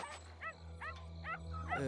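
Four short, high yipping barks from dogs being carried in a truck, evenly spaced and fairly faint, over a steady low engine-like hum.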